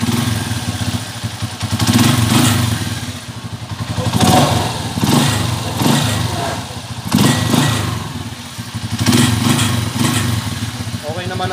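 A Yamaha Mio Soul i 125 scooter, suffering from low oil, starts and runs with a steady mid-pitched idle, rising in a few throttle blips, with a rattling vibration near the exhaust, while someone talks over it.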